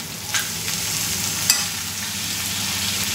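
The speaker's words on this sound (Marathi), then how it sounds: "आपण आता त्यात टोमॅटो टाकतोय" Tomatoes tipped into onions already fried reddish in a pan for a cheese masala dosa filling give a steady close sizzle, with a few sharp stirring clicks and no talking.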